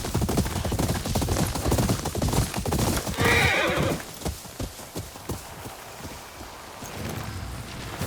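Horses in Ghost of Yōtei neigh and whinny loudly while hooves clip-clop in a steady rhythm. The clatter thins out toward the end.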